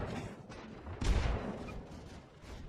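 A battleship's main guns fire in World of Warships, a single heavy booming salvo that rumbles out over constant ocean and engine noise.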